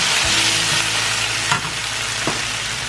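Garlic sizzles in a hot pan, a loud, even frying hiss close by, with a couple of faint utensil taps and a low hum underneath, no voices.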